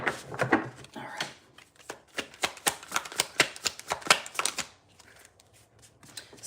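Tarot cards being shuffled by hand, a rapid series of crisp riffling bursts and taps in an even rhythm, close and fairly loud, settling to quieter handling at the end.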